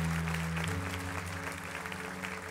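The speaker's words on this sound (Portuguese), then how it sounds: "Salve de palmas aí, gente." Church congregation clapping during a youth service, a brief stretch of moderately loud applause with a low sustained tone underneath.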